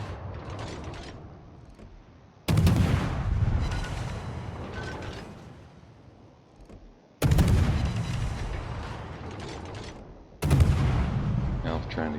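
Ship guns of the destroyer Harekaze fire blind into a smoke screen in a naval video game, with three heavy booming salvos that strike suddenly and then rumble and fade between shots, loud and close.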